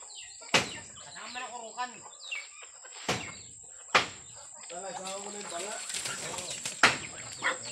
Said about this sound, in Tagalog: maraming manok.